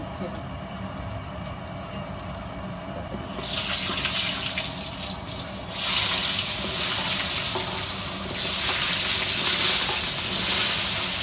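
Potatoes fry in hot oil with bay leaf, panch phoron, asafoetida and turmeric. A steady background hiss swells into louder waves of sizzling as the potatoes go in and are tossed.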